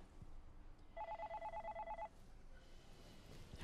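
A telephone in a television drama scene gives one quiet, rapid trilling ring lasting about a second against a low background hush.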